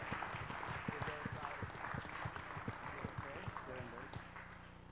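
Rhythmic clapping from a church congregation during a Sunday morning service, steady beats under talk and singing voices, fairly quiet and distant.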